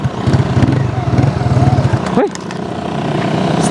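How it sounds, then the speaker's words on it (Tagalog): Motorcycle engine running loud and close while riding, a rapid pulsing putter that drops off abruptly partway through into a steadier lower drone, with a brief shout over it. "Kusog lagi na siya mulugnot nga motor."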